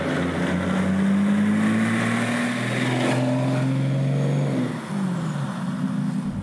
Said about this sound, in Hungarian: ahogy ezekkel a túlméretes, nehéz kerekekkel veretünk ezen a nem túl jó minőségű telephelyen